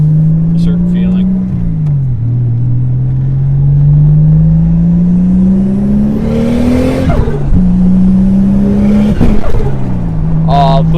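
A Toyota MK3 Supra race car with a roughly 400 hp 7M-GTE engine revs hard into boost cut. The loud, close drone rises and dips in pitch, then stutters and chops as the limiter catches, cutting out briefly twice.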